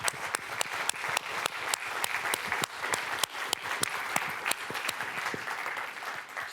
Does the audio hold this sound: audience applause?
yes